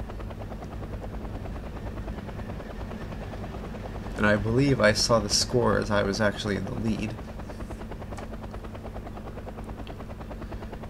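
A transport helicopter landing in the video game Wargame: Red Dragon, its rotor giving a steady low thrum throughout while someone talks over it for a few seconds.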